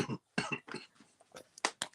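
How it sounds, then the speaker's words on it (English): Someone coughing on a live online open-panel chat, several sharp, hacking bursts in quick succession with short gaps, close to the microphone. "you keep coughing over there"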